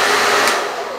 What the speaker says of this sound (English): I put the blow dryer on hot and then I heat up my thing.